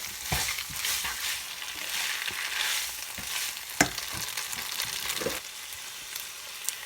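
Spaghetti with hot dog and ketchup sizzles softly in a pan over low heat, with a continuous gentle fry broken by stirring scrapes and a few sharper clinks.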